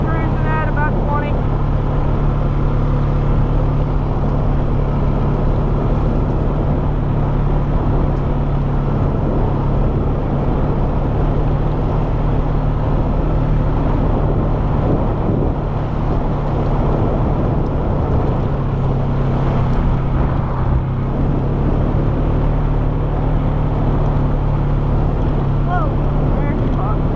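Engine drone from a vehicle cruising at about 20 on a muddy spring ride ahead of an oil change, a steady loud hum with wind buffeting throughout and no breaks.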